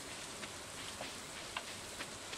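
Faint, steady patter of rain in the Stardew Valley farming game at night, a soft continuous hiss with a few slightly louder drops scattered across it.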